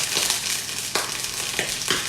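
Halved chicken sausages browning in a hot frying pan, giving a steady close sizzle with a few sharp crackling pops scattered through it and no talking.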